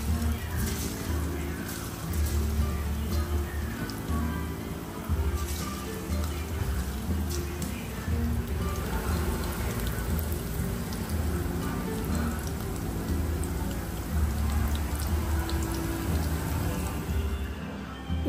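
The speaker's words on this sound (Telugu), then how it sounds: "దీన్ని ఆయిల్లో కొంచెం బాయిల్ చేసుకోవాలి," Chilli chicken 65 pieces deep frying in hot oil give a steady, dense crackling sizzle that holds at an even loudness throughout, with no talking over it.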